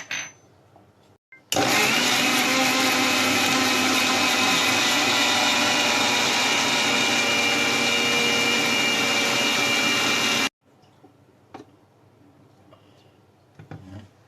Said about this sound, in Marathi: आता आपण या आंब्याच्या गरामध्ये साखर ऍड करून घेऊया आणि ग्राइंड करून घेऊया